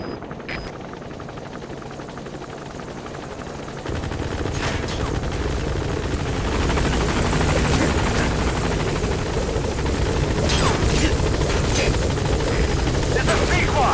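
A military helicopter in Metal Gear Solid V: The Phantom Pain arrives at a landing zone, its steady rotor and engine roar swelling louder and nearer over the clip, with brief sharp noises on top.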